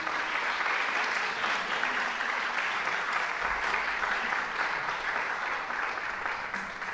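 A concert audience claps steadily to welcome a choir taking the stage at a memorial music concert, with dense, sustained applause running the whole time at an even level.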